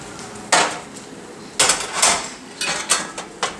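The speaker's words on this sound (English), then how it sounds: "Just put the zucchini straight in." Zucchini pieces dropped into a pan with olive oil, giving several sharp clattering bursts against the metal over a low background hiss, close and fairly loud with pauses between them.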